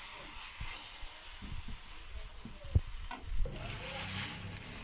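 Grated carrot and milk for gajar halwa sizzle and hiss steadily in a pan, with a few soft clinks and stirring knocks, then a brighter burst of hissing near the end.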